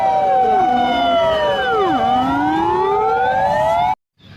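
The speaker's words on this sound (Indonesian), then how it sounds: "ini truk pemadam kebakaran atau mobil damkar" A red toy fire truck's electronic siren wails loudly and close, with repeated falling and rising sweeping tones, then cuts off abruptly with a faint sound after.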